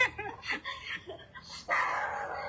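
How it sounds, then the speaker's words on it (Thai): A dog outside a Thai temple barks a few times in short, fairly distant yaps, with low voices and laughter mixed in. "มันเห่าเลย มันทักทายไง ได้ยินไหมได้ยิน"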